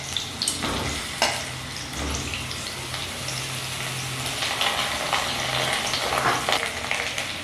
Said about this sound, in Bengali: এইবার এক এক করে যে পটলগুলো নিয়েছি সেগুলো ভেজে নেব।